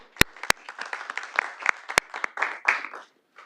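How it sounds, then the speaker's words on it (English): Applause at a Little Rock city board agenda meeting, a short scattering of claps from a small room with a few sharp, louder claps standing out. "Let's give them a round of applause"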